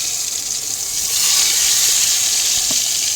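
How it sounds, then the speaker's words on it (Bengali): Eggplant slices sizzling in hot oil, a loud steady hiss that swells after the first second and holds, with a faint clink near the end and no talk. "এত ভালো লাগে তেলের মধ্যে মানে যখন বেগুন বেগুনটা দিলে আওয়াজটা হয়"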